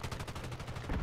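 Shotgun fire in a Call of Duty game, a rapid train of short muffled pulses over about a second, fairly faint.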